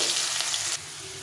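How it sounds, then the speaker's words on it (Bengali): Small new potatoes sizzle steadily in hot oil in a pan for a kohlrabi curry. The frying is loud and close, then drops in level partway through but keeps hissing. "আলুগুলোকে একটু ভেজে নেব।"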